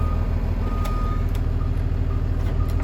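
A school bus fitted with air brakes emits reversing beeps after being shifted into reverse, a steady backup warning over a constant low engine rumble, with no speech.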